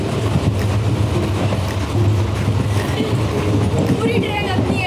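Steady low rumble of a moving passenger train heard from inside the carriage, with continuous wheel and track noise at even loudness throughout and no distinct speech over it.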